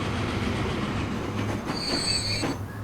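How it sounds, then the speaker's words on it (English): An empty grain train in Transport Fever rolls into a station with a steady rumble of wheels on rails, joined by high, drawn-out wheel squeals as it slows. "So here comes the grain train."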